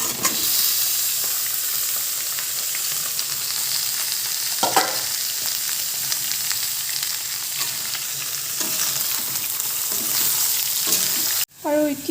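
Pieces of local country chicken hit hot oil with cloves and cardamom in a pan on a gas stove, crackling in a loud, continuous sizzle with stirring scrapes and a brief break near the end.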